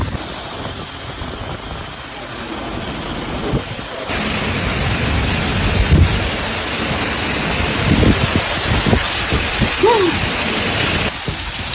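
Heavy rain from a violent storm in Brussels on July 9, 2024, with strong wind gusts, a loud, dense, continuous roar of downpour with occasional louder surges and no speech.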